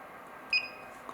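An AGJ wireless restaurant pager gives a single short electronic beep over a steady low hiss.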